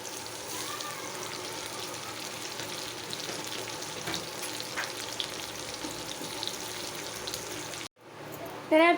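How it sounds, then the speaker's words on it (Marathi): Onion frying in a pan until brown and soft, a steady close crackling sizzle that runs for several seconds, then cuts out abruptly near the end. "कांदा मस्त असा ब्राऊन कलरमध्ये आपण मऊ होईपर्यंत फ्राय करून"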